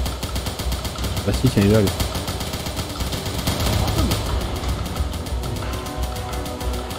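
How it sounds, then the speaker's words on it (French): Rapid bursts of enemy soldiers' automatic gunfire in the war game War of Gold 2, a steady rattling stream of shots throughout, partly distant, with someone speaking French over the shooting. "Donc les mecs ils tirent on ne sait pas d'où"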